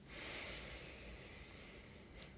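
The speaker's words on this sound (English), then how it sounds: "So as you breathe in, I know I am breathing in. Breathing out, I know I am breathing out." A slow, soft breath during a guided mindfulness meditation: one long, airy, hissing exhale that fades gently, quiet and close, ending in a small click, with no talking.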